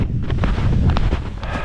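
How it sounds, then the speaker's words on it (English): Gusty wind on a frozen lake in winter buffets the microphone with a low, rumbling roar throughout, loud and close. "but it's windy."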